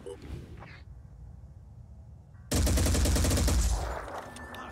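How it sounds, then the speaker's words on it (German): Gunfire from soldiers shooting virus damage at an enemy in the Phoenix Point strategy video game, heard as a sudden loud burst of rapid shots after a quieter stretch with faint game sounds. "da fangen wir direkt mal an, Virusschaden auf die Skyller zu schießen"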